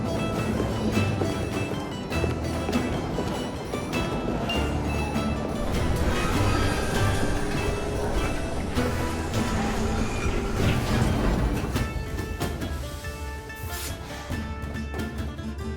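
Steam-era train running in Assassin's Creed Syndicate, a dense continuous rumble with rolling rail clatter and some higher metallic tones over a game music bed, steady and fairly loud throughout.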